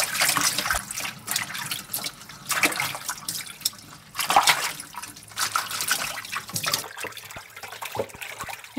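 Mustard greens being washed in water: splashing, swishing and dripping in bursts, with pauses and a few light knocks, close by.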